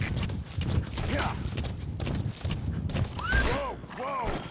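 Horse hooves clip-clop with whinnying neighs in Metal Gear Solid V: The Phantom Pain, the rising and falling whinnies close and loud near the end, with voices talking over the steady hoof rhythm.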